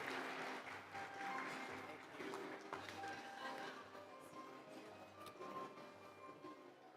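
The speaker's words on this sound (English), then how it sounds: "Give him a big round of applause." Applause from a luncheon and plenary audience greeting a board member, clapping spread through a large room with some voices and murmurs mixed in, tapering gradually.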